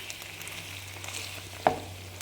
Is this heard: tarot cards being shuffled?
no